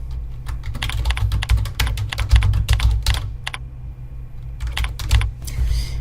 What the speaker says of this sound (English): We'll type in the job order title.